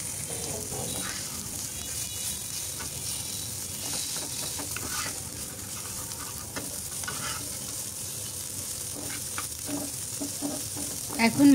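A mix of small fish fries in a pan with a continuous sizzle and bubbling of hot oil, and occasional scrapes and taps come as pieces are turned, heard up close with no speech.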